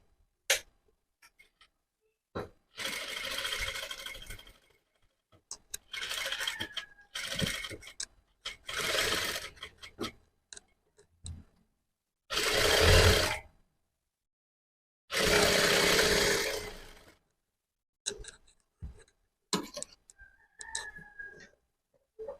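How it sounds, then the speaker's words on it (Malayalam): A sewing machine stitching lining onto the neckline of a sleeveless prince-cut top runs in several short whirring bursts separated by silent pauses, with faint clicks and handling between runs. "നമുക്ക് അടിച്ച് തുടങ്ങാം."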